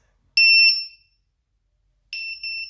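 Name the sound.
VIFLY Finder drone buzzer beeping at maximum volume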